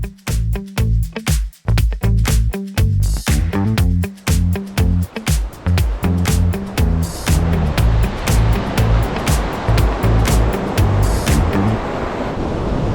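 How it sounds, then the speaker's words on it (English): Pacific Ocean surf near Ventura, California, heard in the morning as a heavy, continuous roar of breaking waves under strong wind buffeting the microphone. "this is our last morning at the Pacific Ocean"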